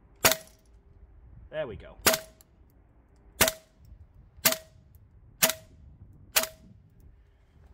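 Six sharp, loud gas blowback shots from a KWA Lithgow Arms F90 airsoft rifle running on green gas, fired singly at roughly one-second intervals over a chronograph, with a brief spoken remark between the first shots.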